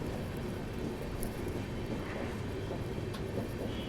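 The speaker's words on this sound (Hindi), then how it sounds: "अब धीरे धीरे एक्सेलरेट कर रहे हैं बैपनली रेलवे स्टेशन से" Passenger train in first AC class pulling away from Baiyappanahalli station in Bangalore, heard from inside as a continuous heavy rumble and rattle with faint clanks, steady and close, no voices.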